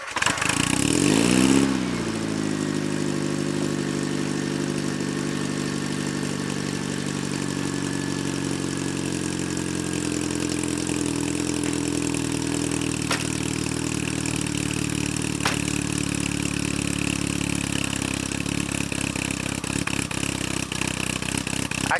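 A Chevrolet Monza exhaust fires up from a cold start with a brief blip of extra throttle, then settles into a steady, loud, rumbling idle that holds close and continuous throughout.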